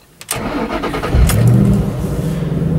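A click, then a car engine cranks and catches, revving briefly before settling into a loud, steady idle close by.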